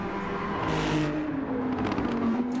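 Ferrari race car in a racing video game at the Nürburgring Nordschleife, its engine note climbing steadily as it accelerates back up to speed, a continuous close whine with rising tone and no talk.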